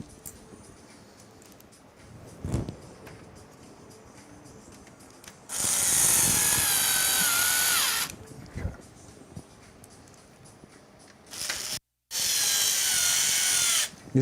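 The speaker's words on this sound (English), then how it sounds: "just driving in our fan screws in the bottom here" Low torque electric screwdriver driving fan screws into the bottom of a PC case during a 9800X3D and RTX 5070 Ti mATX build, giving two sustained whirring bursts of a few seconds each between quieter handling clicks and knocks.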